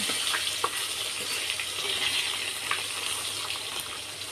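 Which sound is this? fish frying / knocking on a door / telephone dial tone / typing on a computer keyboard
fish frying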